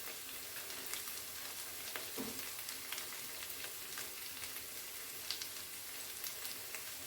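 Turmeric and chilli spices sizzling in hot oil while frying Bengali dahi paneer, a soft steady crackle with scattered small pops, quiet and close, no talk.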